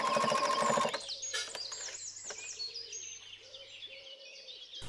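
A sewing machine stitches two sweatshirt pockets 1.5 cm from the edge in a brief, rapid, close burst lasting about a second, then stops while birds chirp and tweet outside in the background.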